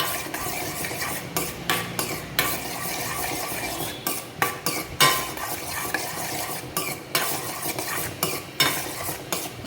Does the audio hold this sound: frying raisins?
yes